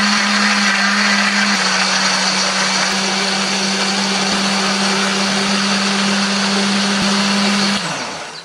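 Blender grinding red chili, shallot, garlic, turmeric and candlenut with a little water, a loud steady whir with a constant motor hum throughout, winding down at the very end.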